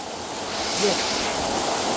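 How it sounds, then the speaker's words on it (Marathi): Heavy water crashes down at Usgaon waterfall as a loud, unbroken roaring rush that fills the whole moment, with only a faint, brief voice underneath. "भरपूर पाण्याचा पोस आहे."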